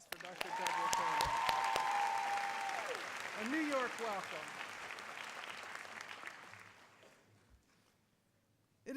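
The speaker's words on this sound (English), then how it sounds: "Another round of applause" Audience applause at a spring graduation ceremony, a broad steady clatter of many hands that fades out toward the end, with a speaker's voice heard over it near the start.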